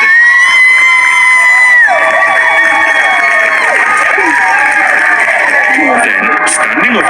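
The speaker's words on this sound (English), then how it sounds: "Thunderous applause as it's announced." A large crowd cheers, whoops and applauds loudly and continuously, with sustained voices and shouts layered over the clapping.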